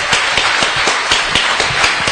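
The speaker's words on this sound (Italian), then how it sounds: "vorrei un fragoroso applauso, il professor Ubaldo Mastromatteo della ST Microelettronica" Audience applause welcoming Professor Ubaldo Mastromatteo of ST Microelectronics onto a conference stage; a steady, dense crowd clapping that keeps an even level from start to finish with no voices.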